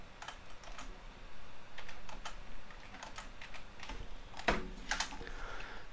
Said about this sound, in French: alors je vais faire CTRL N.